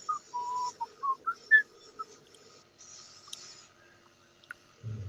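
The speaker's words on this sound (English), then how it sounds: "Stop whistling while he shows that thing." A person whistles a short run of clear notes at close range, then trails off into near silence with a faint thump at the end.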